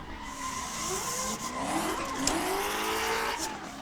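A car drifts through a slide, its tires squealing in long wavering tones that rise and fall over a roaring engine, loud and close with no voices.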